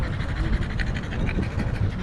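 A French bulldog pants rapidly and close by in quick rhythmic breaths, set against outdoor background noise at a busy lakeside park.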